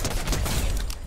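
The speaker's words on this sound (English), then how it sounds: "This new shotgun is hitting." Shotgun fire in the video game Fortnite, a dense burst of loud booming blasts packed close together across about a second, with no talk over it.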